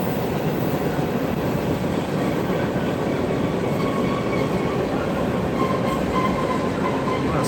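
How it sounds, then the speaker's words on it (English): A train rolls past on rails at a live rail-cam site, producing a continuous loud rumble and rattle with faint high metallic wheel squeals threading through. "Squeaking from that wheel there"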